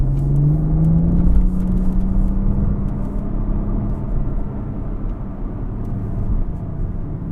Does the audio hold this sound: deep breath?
no